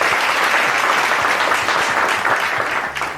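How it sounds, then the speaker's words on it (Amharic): Sustained applause from a studio audience at a cooking competition show, dense and loud clapping that continues steadily and fades slightly at the end. "ለእናንተ ጭብጨባ ያስፈልጋችኋል"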